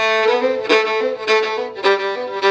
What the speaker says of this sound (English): a really cool bowing pattern called Georgia Shuffle bowing